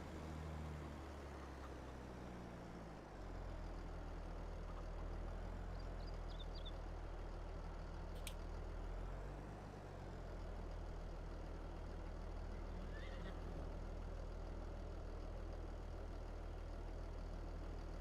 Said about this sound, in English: Getting our nice, good, big old Fenton tractor.